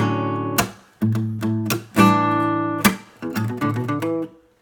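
Acoustic guitar plays the altered verse lick of a song, a few plucked notes and strummed chords ringing out in short phrases, close and clear.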